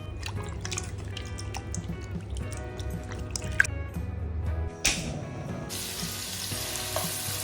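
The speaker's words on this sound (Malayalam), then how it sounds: "ഇനി നമ്മൾ ഇതിലേക്ക് ഉള്ളിയിട്ടിട്ട് തുടങ്ങുകയാണ്" Onions go into a pot on the stove while beef cooks for a biryani, bringing a steady close sizzle with a couple of sharp clatters partway through and no talking.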